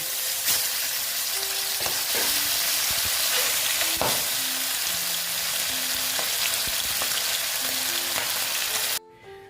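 Pabda fish frying in hot oil, a steady loud sizzle with crackling bursts and occasional stirring knocks, continuous throughout before cutting off abruptly at the end.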